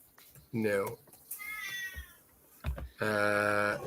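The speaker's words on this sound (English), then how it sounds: "I think a cat said something." A house cat meows a few times nearby, short rising and falling calls spread across a few seconds, mixed in with people chatting over a call.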